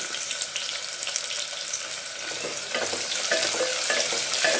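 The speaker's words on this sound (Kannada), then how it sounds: "ಹಸಿ ವಾಸನೆ ಹೋಗೋವರೆಗೂ ಚೆನ್ನಾಗಿ ಫ್ರೈ ಮಾಡ್ಕೊಳ್ಳಿ" Chopped onions fry in hot oil for soya chunks pulao, a steady close sizzle with faint scraping stirs throughout and no voices.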